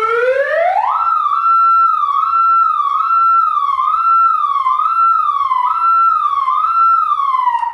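A car horn fitted with a new siren-style sound blares a loud, continuous wail that rises, then repeatedly sweeps up and down like a police siren, close and steady throughout.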